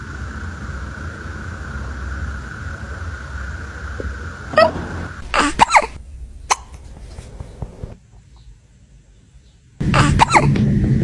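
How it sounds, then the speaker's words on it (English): A kitten hiccups in a handful of short, sharp little bursts, spaced irregularly against a steady background hiss that cuts out and returns. "Do you have the hiccups?"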